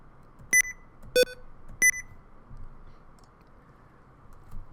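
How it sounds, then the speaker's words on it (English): Windows Toggle Keys tones sounding as Num Lock is pressed: three short, bright electronic beeps about two-thirds of a second apart, the middle one at a different pitch, over faint room hiss. "It just makes a noise when you hit the caps lock or num lock."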